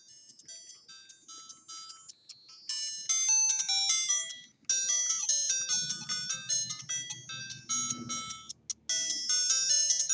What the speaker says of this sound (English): Not sure if you can hear the music or not